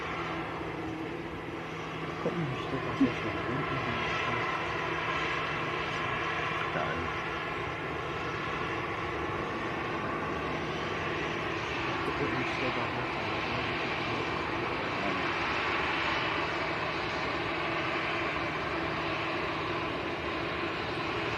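A jet aircraft at Manchester Airport, its broad steady engine roar holding loud and continuous throughout, with a faint low hum underneath and no distinct change in level.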